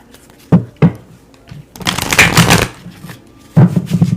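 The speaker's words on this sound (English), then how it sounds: "pull an advice card for overall advice" Tarot-style advice cards shuffled by hand, with two sharp slaps near the start, a dense riffling burst in the middle and another flurry at the end, close and fairly loud with no talk.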